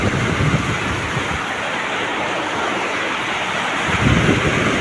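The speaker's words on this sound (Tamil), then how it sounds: "சொத சொத சொதன்னு மழை பெய்யக்கூடிய மழை அற்புதமான மழை அழகான மழை" Heavy rain falling on open farmland, a dense steady hiss with gusty wind buffeting the microphone, loud and close, no voices.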